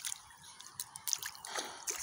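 Water dripping and splashing during a barefoot walk through warm puddles on a trail, irregular close drips and small sloshes, fairly quiet, no talking.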